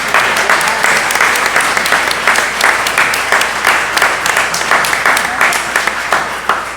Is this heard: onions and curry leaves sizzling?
no